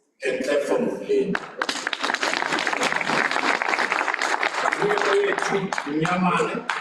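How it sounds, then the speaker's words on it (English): A graduation ceremony audience bursts into sustained applause and clapping, a dense crowd sound with light chuckles, as an announcer's voice speaks over it. "And clap for Mulin."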